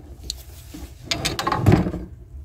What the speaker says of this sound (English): I can open and close the drawers